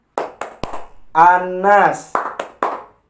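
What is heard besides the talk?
rhythmic hand clapping in a classroom clapping game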